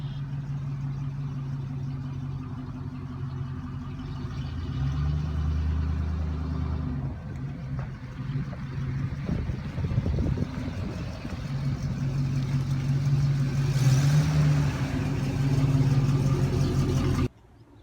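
A 1969 Oldsmobile Toronado with a 355 cubic inch, 350 horsepower engine idles in a steady, close low rumble that swells slightly midway, then cuts off abruptly at the end.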